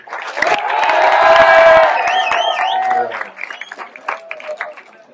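A school crowd at a college slam poetry tournament cheers, shouts and whoops loudly in a swelling burst, with children's high-pitched yells and some clapping that fades into scattered calls.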